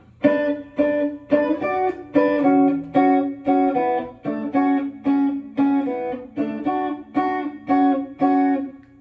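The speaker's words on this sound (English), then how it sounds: "So this is the synth part on the guitar." An electric guitar plays the synth intro riff of a song, a steady run of about a dozen bright, sustained chords at an even pulse, loud and close with no talking.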